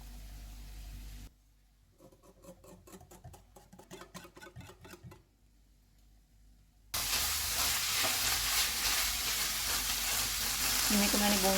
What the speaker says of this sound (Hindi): कीमे को मैंने भून लिया।